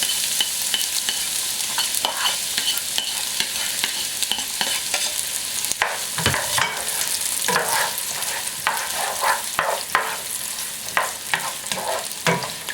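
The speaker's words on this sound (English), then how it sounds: "So let's start the sautéing process. I think our oil is hot enough. We're going to add our onions." Onions sautéing in hot oil, a steady sizzle and fry with repeated stirring scrapes and clicks throughout, close and continuous with no talk.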